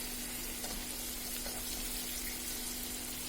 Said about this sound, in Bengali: একটু ধৈর্য ধরে সময় নিয়ে এটাকে ভাজতে হবে।